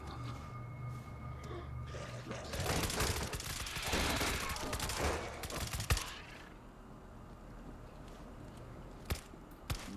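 Gunfire in the video game World War Z: a dense burst of rapid shots for about three seconds, then a few isolated single shots, heard fairly quietly over low background game ambience.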